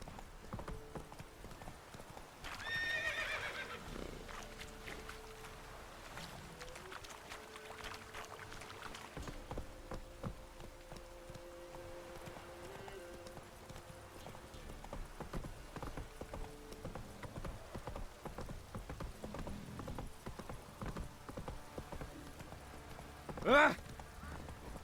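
Roach, the horse in the video game The Witcher 3: Wild Hunt, gallops in a steady, rapid clip-clop of hooves, with game music and effects underneath and a sharp clash near the end.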